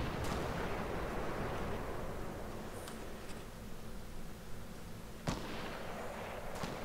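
Sparse gunshots in the Fortnite video game during 2018 squad play: a few sharp, distant cracks spaced irregularly over a steady, noisy battlefield background.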